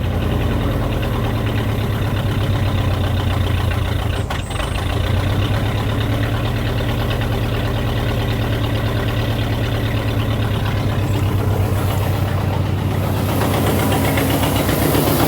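A car engine idles with a steady, loud, low rumble and a fast even pulse, continuing close up throughout with a brief dip near the middle and no talk.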